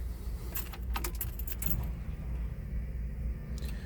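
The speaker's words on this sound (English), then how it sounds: "Let's go ahead and start this up so you can hear it run." Keys jangle in the ignition for a moment, then the 5.3 liter Vortec V8 of a fuel-injected car settles into a steady, close, low rumble that lasts to the end.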